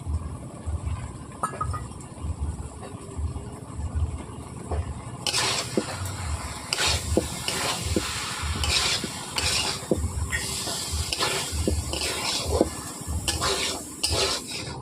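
Chana masala sizzles and is stirred in a pan after a ground paste of poppy seeds and cashews is added. Steady frying crackle runs under the scrape and clatter of a spoon against the pan throughout.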